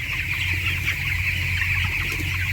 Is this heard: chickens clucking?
yes